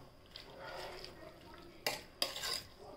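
A utensil scrapes and stirs spinach dal inside a pot in a few soft sweeps, with a couple of sharper clinks of metal toward the end.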